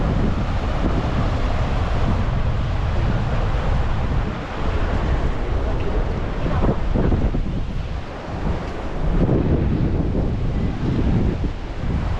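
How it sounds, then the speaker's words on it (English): Boiling hot spring water pours into a river at Yellowstone, a loud, continuous broadband rush heavily mixed with wind buffeting the microphone, dipping briefly twice. "Boiling hot water is joining the river."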